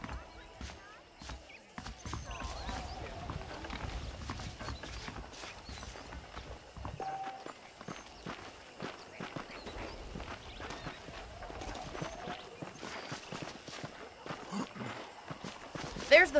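A horse in the Red Dead Redemption game walks along with a steady, close clip-clop of hooves. Someone speaks over it the whole time, with a brief whinny and some other footstep sounds mixed in.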